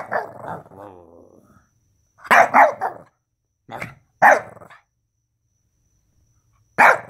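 A Boston Terrier opens with a low, drawn-out growling whine, then barks sharply in short separate bursts: a quick double bark, two single yaps and a final one, all loud and close with silence between.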